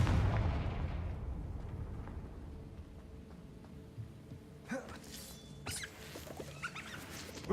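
A Confringo spell blast in Hogwarts Legacy bursts loudly at the start and rumbles away into a decaying boom, followed by scattered faint crackles and debris-like clicks.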